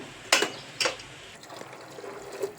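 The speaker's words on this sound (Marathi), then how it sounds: "आणखीन आपल्याला याच्यात पाणी टाकायचं आहे आणखीन मी दोन ग्लास पाणी टाकतो याच्यात" Two glasses of water are poured into half-cooked dal simmering in a pot. Two short splashing gushes land in quick succession, followed by softer trickling and light clinks.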